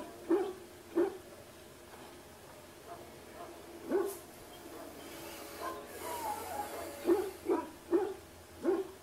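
A dog in Dragon Age: Origins barks repeatedly in short, fairly loud bursts, grouped in a rhythmic series with brief pauses, over a quiet game background.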